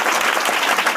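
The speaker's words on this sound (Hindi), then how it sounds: "इसलिए इनके लिए ताली बजा देंगे फिर से" Audience applause for soldiers at a coaching-centre event, a dense steady roll of many hands clapping at once, loud and close, filling the whole moment without pause.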